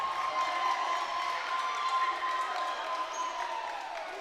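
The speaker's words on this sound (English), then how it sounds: "Got the crowd a little excited." A sparse crowd at a high school basketball game cheering after a big block, a faint, steady roar heard at a distance.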